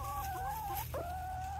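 Cream Legbar chickens in a backyard flock cluck and give a drawn-out, wavering call, close and clear over a low steady background hum.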